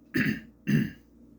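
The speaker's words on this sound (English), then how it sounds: "You hear me clear my throat." Two short, raspy throat clearings in a row, close and fairly loud, separated by a brief pause, with quiet in between.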